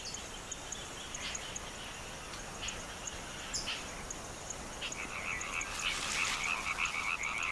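Frogs croak in a steady chorus of repeated calls, moderately loud over a constant hiss of night insects, with occasional chirps rising toward the end.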